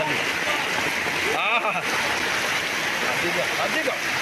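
Floodwater from heavy rain rushing through a bazaar street, a loud continuous roar of churning water close by with no clear talk.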